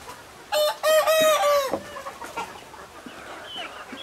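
A rooster crows loudly up close, followed by softer scattered clucking from hens nearby.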